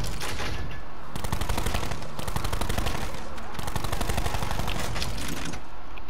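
Rapid automatic gunfire in Black Ops 4 Alpha Omega, a dense, loud, continuous stream of shots lasting the whole stretch with only brief dips, no speech over it.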